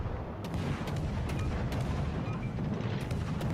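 Warship main batteries fire in the naval combat game World of Warships: Legends, a dense run of loud booming salvos over a constant rumble with no voices.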